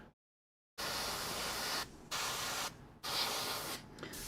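An aerosol can sprays orange reflective paint onto a miniature in three or four long, steady hissing bursts separated by brief pauses, close and loud.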